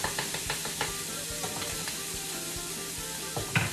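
Steady sizzling of turkey bacon frying in a pan, with crackles and small pops throughout and a louder spatter near the end.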